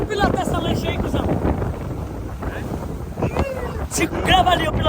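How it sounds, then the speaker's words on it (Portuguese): A motorboat running across open water, its engine rumbling beneath heavy wind buffeting the microphone, with people talking loudly over it throughout. "eu pilotando a lancha"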